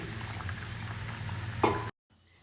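Jaggery melting in a pan for coconut holige, giving a close, steady bubbling sizzle with a brief stir-like clatter near the end before it cuts off.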